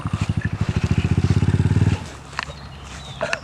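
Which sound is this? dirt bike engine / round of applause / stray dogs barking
dirt bike engine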